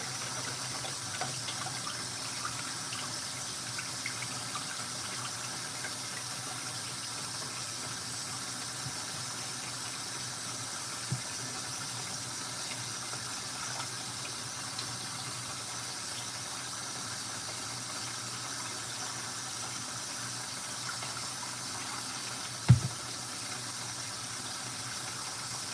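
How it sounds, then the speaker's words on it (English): Tap water runs steadily as rice is rinsed, a faint, even hiss with a couple of small knocks and no talking. "I rinse mine off with some water."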